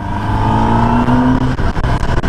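A 2021 Kawasaki ZX10R sport motorcycle engine revving while riding on the road toward Tagaytay, with a smooth rising whine, loud and steady, then choppier fluctuations near the end.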